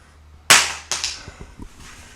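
An Olight flashlight hits the ground with a sharp crack, followed by a second impact and a few small bounces and rattles dying away, close and fairly loud.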